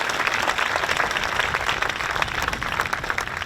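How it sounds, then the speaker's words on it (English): Steady, dense applause from a large audience at a San Francisco mayor's 2026 State of the City address, continuous and even throughout with no pauses or talking. "if you can keep clapping, go for it."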